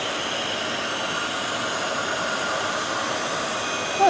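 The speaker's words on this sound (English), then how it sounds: "So we'll heat emboss. I am going to heat from underneath" A heat gun used for heat embossing in a craft session blows a steady, loud, close hiss of hot air that does not change across the whole stretch.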